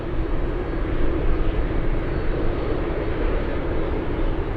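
Boeing 747 Dreamlifter jet engines at an Anchorage airport, a loud, broad, steady roar with a heavy low rumble, sustained and even throughout with no voices.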